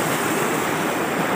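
Heavy water rushes steadily through a mountain stream channel feeding a broken irrigation canal, a dense continuous roar close by with no talk over it.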